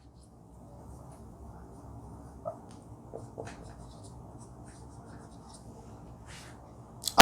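A chemistry formula being written on a classroom board, faint scattered scratches and light taps of the marker or chalk over several seconds, quiet and close, with a louder knock at the end.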